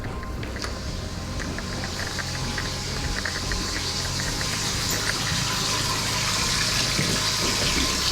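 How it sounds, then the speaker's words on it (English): Water runs and gushes steadily into a container, siphoned from a goldfish tank, a constant splashing stream with a faint rising trickle, close by and uninterrupted. "usually when the water is running, the water siphons from the fish tank into here"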